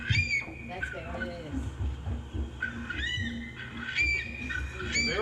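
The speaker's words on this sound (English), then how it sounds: "Okay, so this is an Eastern Curlew." An Eastern Curlew's rising, mournful calls play back from a phone speaker, coming in several separate whistling phrases mixed with a little background murmur.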